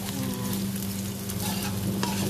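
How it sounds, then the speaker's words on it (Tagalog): Chicken nuggets stirred in a frying pan, a steady close sizzle of hot oil with soft scraping of the stirring running continuously throughout. "Ilalagay ko na yung nuggets. So, mix-mix lang ng kaunti."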